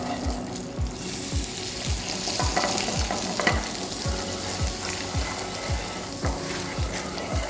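Garlic fries in oil in a pan for a tangy tomato sauce, a close, steady sizzle broken by a regular series of scraping stirs.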